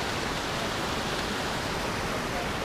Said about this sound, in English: you're surrounded by waterfalls.